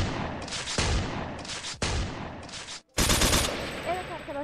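Bursts of automatic gunfire in a roleplay video game, several loud broadband volleys separated by brief pauses, with a longer burst near the end.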